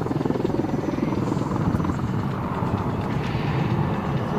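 An AH-64D Apache Longbow attack helicopter doing pedal turns roars steadily close by, its rotor thudding in a continuous beating drone throughout.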